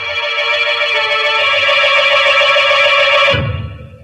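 A telephone rings in a radio drama, a loud, sustained electric bell trill lasting several seconds before cutting off abruptly into a low thump.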